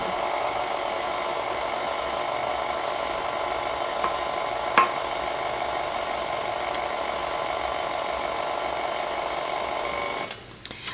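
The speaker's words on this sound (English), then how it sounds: "we're going to mix this on a low speed one at a time until each egg is incorporated" An electric mixer runs steadily on low speed, beating eggs into white chocolate cheesecake batter, with a continuous whirring hum and a few small clinks before it stops near the end.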